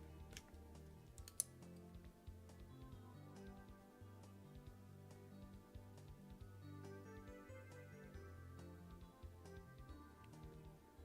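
Keys tapped on a computer keyboard while a note is written, light irregular clicks running steadily throughout over a low musical background.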